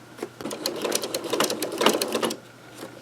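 A sewing machine stitches a double oven mitt in a rapid, even run of needle clatter that rises, holds for about two seconds and then stops, close and clear.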